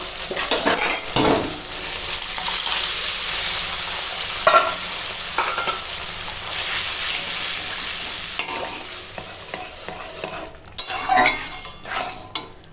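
Biulir dal tempered with hing and mouri paste bubbles and sizzles steadily in a pan, with occasional scrapes and clinks of a stirring spoon against the metal.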